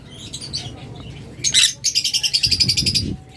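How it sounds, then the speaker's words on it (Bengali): Budgerigars kept as breeding pairs with their chicks chirp and twitter in bright, rapid bursts, with a loud run of fast repeated calls toward the end, close by and busy, over a low background murmur. "আমাদের কাছে রয়েছে বাচ্চা সহ ডিম বাচ্চা সহ বাজরিগার পাখি"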